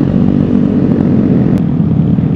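A Vespa Sprint 150 scooter engine drones steadily and loudly up close during a relaxed morning ride through city streets, with no change in pitch.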